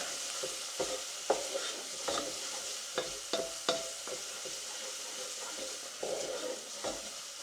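Shallots being stirred and fried in a pan for a steak and vegetable pie: a continuous close sizzle with irregular scraping and tapping of the utensil against the pan, and no one speaking.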